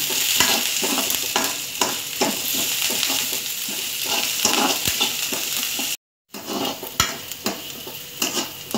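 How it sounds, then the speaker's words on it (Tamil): Onions sauté with curry leaves in a pan for radish sambar, hissing loudly and steadily while a utensil scrapes and taps the metal in a brisk, repeated rhythm, with one short gap of silence and no speech. "வெங்காயம் வந்து நல்லா வதங்கணும் கொஞ்சம் வதங்கியிருக்கு இன்னும் கொஞ்சம் வதங்கணும்"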